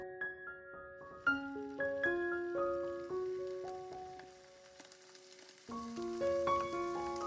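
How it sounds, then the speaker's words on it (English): Chicken wings frying in hot oil in a pan, a steady soft sizzle running under a louder melodic music track, with no talking. "I let the oil heat up and start frying the chicken wings."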